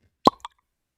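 A single sharp cork pop from a bourbon bottle, close and crisp, followed by a smaller secondary plop and then silence.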